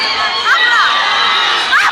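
A loud crowd shouts and cheers at an outdoor rap battle event in Bayambang, Pangasinan, with shrill voices rising in a continuous roar and a fresh swell near the end.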